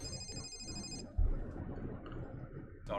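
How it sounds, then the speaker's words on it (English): A phone rings with a high electronic trill for about a second over a murmur of background sound, then a thump, with another brief ring burst at the end. "Sorry, phone."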